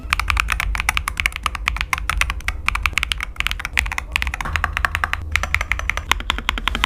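Rapid, steady clacking of keys on a MAD 68 HE mechanical keyboard, close up and continuous, with no voices.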